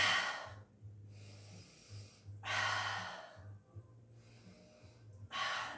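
Breathing during a mat pilates class: three strong, close exhales, forceful breathy rushes of air spaced a couple of seconds apart, with quieter inhales and a low hum between them.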